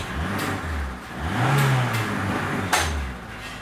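Hyundai i10 engine with an electric power steering fault, revved a few times from idle, each rise and fall distinct and close, with a sharp click near the end.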